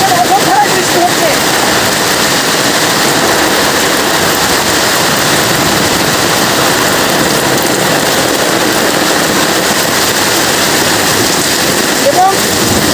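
Heavy rain falls in a rural village amid lightning, a constant loud wash of downpour with no clear thunderclap standing out.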